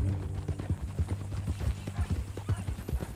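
Horse hooves clip-clop at a steady walking rhythm in Red Dead Redemption 2, close and fairly loud, with a low engine-like hum underneath and no speech during the steps.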